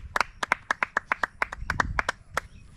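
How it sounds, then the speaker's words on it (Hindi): A small group clapping at a birthday celebration on a street, a quick run of about fifteen sharp, close hand claps in an uneven rhythm, with faint background noise. "ब्रो, तालियां।"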